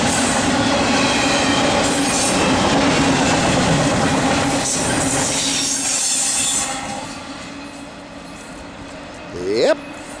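An NS 213 freight train led by BNSF, KCS and UP locomotives rolls past near Charlotte on the Piedmont Division with a loud steady rumble and clatter that eases off, then a rising wheel squeal near the end, with voices over it.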